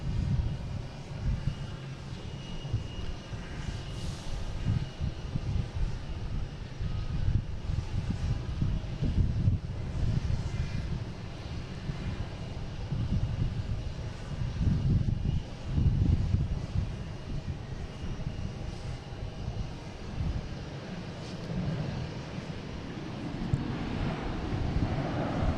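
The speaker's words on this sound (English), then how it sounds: "We have a Delta coming from LAX, 757. Be here in 1 second." A Delta Boeing 757 from LAX arriving at Boston Logan, a steady broad engine roar with wind rumble that holds loud and even throughout, no voices over it.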